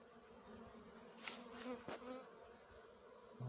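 Bees buzz around goldenrod flowers in a Leningrad region summer field, a faint hovering drone with a couple of brief louder passes close by.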